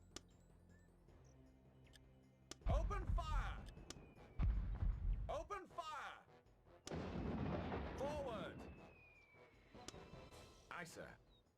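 Artillery in the video game Warhammer: Dark Omen fires several heavy, booming blasts at irregular intervals, mixed with voices talking over the battle.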